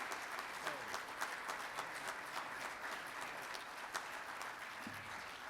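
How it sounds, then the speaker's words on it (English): Rotary meeting audience giving a round of applause to a speaker, steady even clapping heard at a distance and fairly faint. "Let's give you another round of applause and appreciation."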